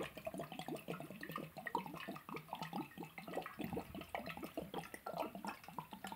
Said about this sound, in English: Oh, you want to see chugging? I'll give you some chugging time.